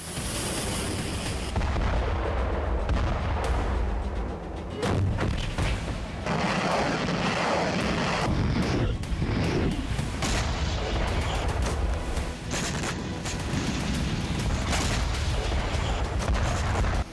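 Artillery fire and heavy attacks in Kharkiv, Ukraine, heard as dense, loud booms and blasts that overlap with almost no pause, with sharper cracks standing out over a continuous rumbling roar and no speech.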